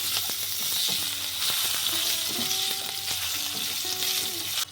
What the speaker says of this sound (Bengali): একটা মিডিয়াম সাইজ আলু ডুমো ডুমো করে কাটা,